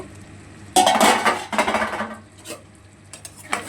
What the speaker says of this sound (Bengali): ঢাকনাটা খুলে দেখব